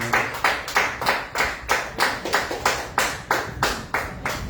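A church congregation claps in unison, with strong rhythmic beats at a steady pace of about three per second, loud and close, with no talking over it.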